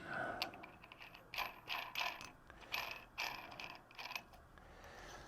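A ratchet tightening a new nut on a 62TE transmission compounder assembly, with repeated bursts of quick clicking strokes at an uneven rhythm, fairly quiet and close with no talking.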